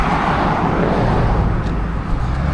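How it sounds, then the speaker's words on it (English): Loud vehicles passing on a suburban road in Armadale, Perth, a constant heavy roar of traffic close by with no talking over it. "Get away from these loud vehicles."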